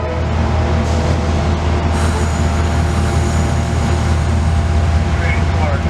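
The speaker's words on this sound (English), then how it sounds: "After a brief station stop, the train continues east towards New York Penn." A dual-mode passenger train pulls away from a station heading east on the CSX Mohawk Subdivision, a loud steady rumble of engine and rolling wheels with a faint high squeal near the end.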